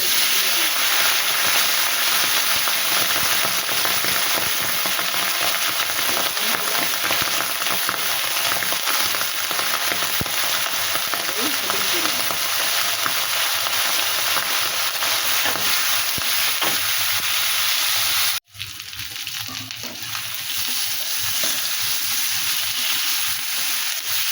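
Green chilli, whole cumin, onion and brinjal fry in hot oil, giving a steady, loud hiss that lasts throughout with faint stirring, then briefly drops out and returns quieter near the end; no talk.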